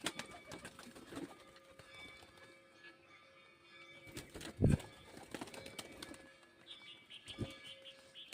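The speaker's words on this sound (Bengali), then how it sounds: "এখানে 6টা পায়রা বেরিয়ে গেছে" Pet pigeons are released from a coop, giving soft cooing and scattered wing flaps, with one sharp burst of flapping near the middle, all faint and close by.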